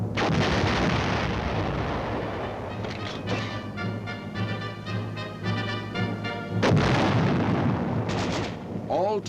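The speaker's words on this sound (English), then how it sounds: "weapons which have been modified to fire blank ammunition" Military weapons modified to fire blank ammunition go off during a maneuver, giving repeated booming reports with heavy low rumble. A narrator's voice runs alongside the firing.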